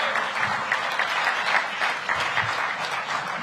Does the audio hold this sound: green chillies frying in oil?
no